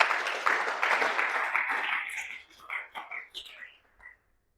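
Church congregation applauding at a GBI sermon, a dense burst of clapping that thins into scattered, separate claps before fading to silence.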